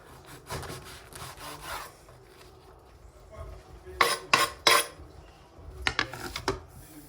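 A knife saws through a loaf of bread in a home kitchen, giving a run of soft scraping strokes followed by a few sharper bursts near the end; nearby and fairly quiet, with no talk.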